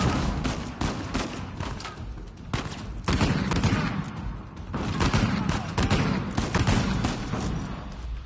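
Sustained assault-rifle fire from an Uncharted 4 firefight, with dense overlapping bursts of shots and booming impacts filling the space for several seconds. Loud and continuous, with voices faintly present underneath.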